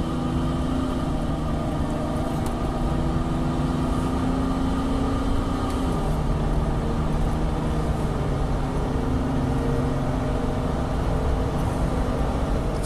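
A Ford Sport Trac fitted with a cold air intake holds a raised, steady engine drone around 3,000 RPM, then eases off to a lower hum partway through, heard from close by.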